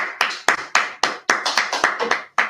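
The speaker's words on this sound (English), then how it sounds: "I'm gonna clap it up" A single person clapping in a steady rhythm, about eleven sharp, close hand claps spaced roughly a quarter second apart, with no talk.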